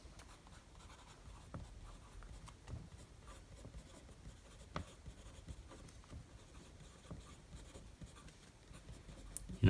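A TWSBI Diamond 580 AL fountain pen with a broad nib, inked with Diamond Twilight, scratches faintly across paper, a soft, steady rustle with small irregular strokes and no talk.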